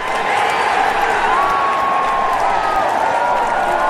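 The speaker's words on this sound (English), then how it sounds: "give a huge round of applause to our musical ugly doll" Loud, continuous audience applause at a concert, a thick roar of clapping mixed with crowd noise and a faint whoop, steady throughout with no pause.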